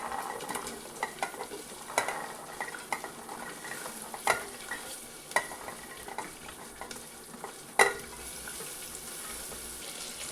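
Mixed vegetables with onions fry and get stirred in a pressure cooker for masala veg pulao, a low crackling sizzle broken by scattered clinks and scrapes of a spoon against the pot, no voices.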